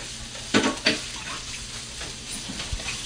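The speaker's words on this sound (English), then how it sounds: "when you're browning onions, you have to make sure that all of the onions get brown" Onions brown in a Teflon pan with a steady low sizzle, broken by a couple of scraping stirs against the pan surface.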